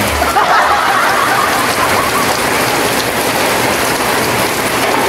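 Steady, heavy rain pours down continuously, a dense hiss of drops hitting surfaces nearby with no pauses.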